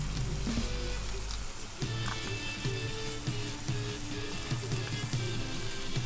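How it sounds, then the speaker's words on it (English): Karela (bitter gourd) with gur frying in a pan over a medium flame, giving a steady, close sizzle with soft pops and crackles throughout. "So fry it nicely, mix it well and let it fry in a medium flame"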